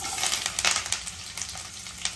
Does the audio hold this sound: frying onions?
yes